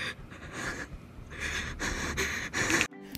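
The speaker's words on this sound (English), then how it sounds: "only because of her obsessive loud breathing" A frightened woman hiding in a movie scene breathes loudly and heavily, a run of sharp gasping inhales and panting exhales close up, ending abruptly.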